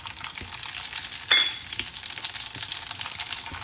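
Cumin seeds, mustard seeds and chillies crackling and sizzling in hot oil for tempering a green chilli mango pickle, a steady hiss with scattered pops and one sharper burst partway through.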